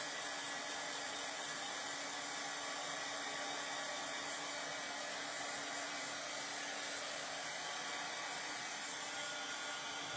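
A hair dryer blows on a sewing project, a steady, even whoosh of airflow that holds at one level from start to finish, close and unbroken.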